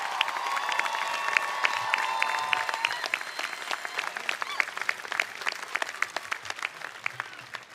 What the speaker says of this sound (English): Please give you a special round of applause.